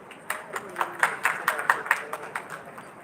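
Scattered applause at a dental event honouring a keynote speaker, with distinct individual claps standing out in an irregular rhythm, fairly close and moderately loud.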